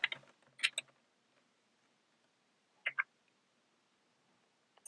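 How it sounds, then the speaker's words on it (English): A few short bursts of clicking keys on a computer keyboard as an email address is entered, quiet and close, with long silent gaps between the brief flurries. "so I'll type an email address in here"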